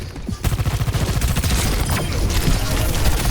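Sojourn's weapon firing in the Overwatch first-person shooter: a sustained, loud stream of rapid shots that starts abruptly and continues without a break.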